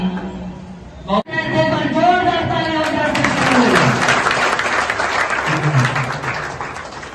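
Audience applause at the opening of a state coordinator office for an organic products company in Daltonganj: a sustained burst of clapping from a crowd, loud and steady, that starts after a brief pause and gradually thins out.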